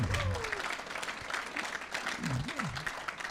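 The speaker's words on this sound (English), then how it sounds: "how about a round of applause for Julius here?" Applause from the audience at an auctioneering college class auction, steady clapping across the whole stretch, with a voice speaking briefly over it.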